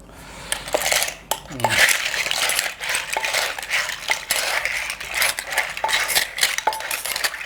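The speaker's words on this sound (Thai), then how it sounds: "ตำหอยแครงก็ต้องใส่หอยแครงนะครับเนาะ ใส่ลงไปนะครับ" Cockles tipped into a som tam mortar for spicy papaya salad with pla ra, giving a dense run of bright clinks and shell clatter, fairly loud and close, with no clear speech.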